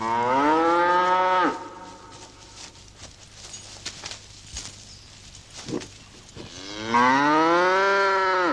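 A cow that is struggling to calve lets out two long, loud moos close by, one at the start and one near the end, with quieter shuffling and barn sounds between them.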